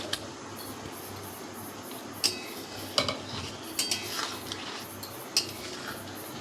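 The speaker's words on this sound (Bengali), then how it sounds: "এই পর্যায়ে আমি এই আমগুলো দিয়ে দেবো" A spoon stirs mango pieces through sticky, boiled sugar syrup in a pot, with sparse metallic clinks and scrapes over a quiet steady background, made without oil or spices.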